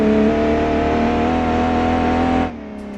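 SUV engine in BeamNG.drive on snowy, icy roads, a steady loud droning roar holding revs under acceleration, then dropping off sharply near the end.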